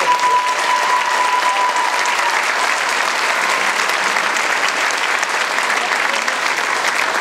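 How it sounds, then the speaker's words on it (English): Sustained applause fills a high school spring choir concert, a dense, even wash of many hands clapping at full strength for the choir members, with a steady tone briefly audible at the start. "Yes, round of applause for all them."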